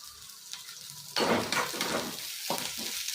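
Onions, cinnamon, cloves and masala frying in oil in a pan for a bottle gourd masala kootu, a loud sizzle that jumps up as ingredients go in, with scraping stirs and a few sharp clatters, no talking.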